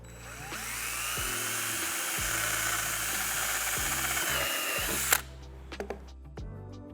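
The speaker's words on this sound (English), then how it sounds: "So we got a drill with a 3/16 drill bit. Let's go ahead and get those holes drilled out." A power drill fitted with a 3/16 bit whines at a high pitch for about five seconds while boring holes in a lid, then stops abruptly. A few short clicks and handling knocks follow, loud and close up.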